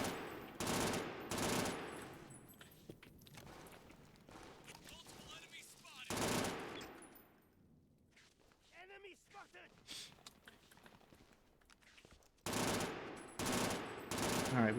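Burst gunfire from the video game Brink, played in a co-op speedrun, comes as loud, sharp clusters of shots at the start, around six seconds and near the end, with quieter game sounds between them.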